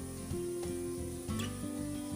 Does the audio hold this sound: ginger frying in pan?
yes